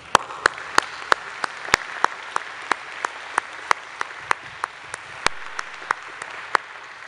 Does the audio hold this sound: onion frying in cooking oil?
no